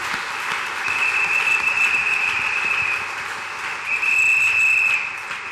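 A church congregation applauds in a sustained, dense wash of clapping that swells, dips briefly and rises again, with a faint whistle-like tone riding above it.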